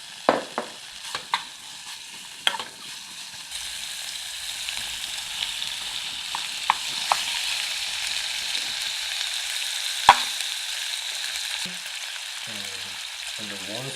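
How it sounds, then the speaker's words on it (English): Pork belly sizzles and fries in a pan while being stir-fried, a steady crackling hiss running throughout with a few sharper clicks and scrapes of stirring, close and moderately loud, with no talking. "Okay, now we need to stir fry pork first."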